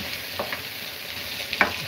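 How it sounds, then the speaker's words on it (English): Onions sweating in a pan for Punjabi sarson ka saag give off a soft, steady low sizzle, with a couple of brief utensil clinks and scrapes standing out. "Just need to sweat those onions down."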